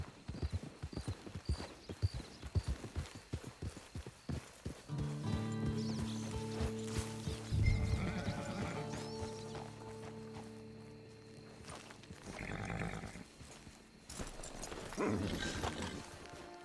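Horse hooves clip-clopping in Red Dead Online, an irregular run of close hoof strikes that gives way to overlapping game sounds, with a musical tone and further rustling and hoof steps later on.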